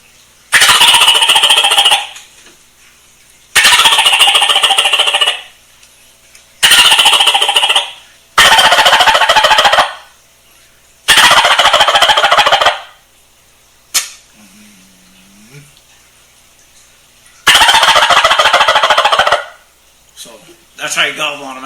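A turkey gobble is imitated on a mouth call, heard as six loud, close bursts of rapid rattling trills, each about two seconds long, separated by short silences, with a brief faint voice between them.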